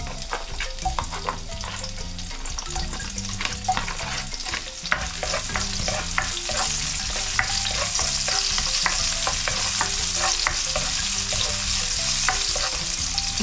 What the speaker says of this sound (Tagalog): Lagyan natin ng oil. Initin natin ng konti. Igisa na natin ang sibuyas.